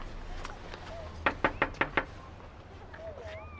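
Police knock on a door in the TV drama Doctors: five quick, firm raps in a tight even burst, with faint voices in the background.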